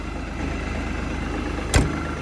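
An LS tractor's diesel engine idles just after starting, a steady low rhythmic chug up close, broken by one brief sharp knock.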